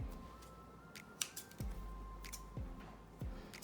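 Scissors cutting a jumbo flaky buttered-flavor biscuit, a few crisp snips at irregular intervals, close and quiet with no talk.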